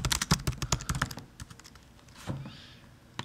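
Rapid clacking of computer keys being typed, a dense burst of strokes at first that thins into a few scattered taps with quiet gaps, close and clear with no speech.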